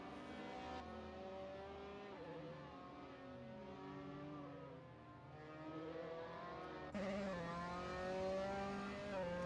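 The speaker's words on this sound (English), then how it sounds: "there's a car coming on the track" Formula 3 race car engines in a racing game at Hockenheim, high-pitched revving that climbs through gear changes, with shifts and a sudden louder engine note near the end, no talk.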